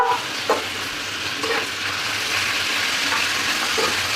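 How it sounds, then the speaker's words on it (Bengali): Meat fries in a pan with a steady, even sizzle and a few soft scraping stirs, close and alone without voices. "এখন মাংসটা ভাজি করবো"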